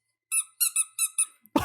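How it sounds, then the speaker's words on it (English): A Pui Pui Molcar Korokoro Friends candy toy (Zombie Shiromo) squeaks five times in quick, even succession, clear and close, followed by a brief rustle at the end. "Wait, this one actually squeaks?"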